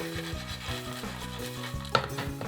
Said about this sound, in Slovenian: v vročo ponev damo malo olja, pa popražimo tale grahek malo na pikrco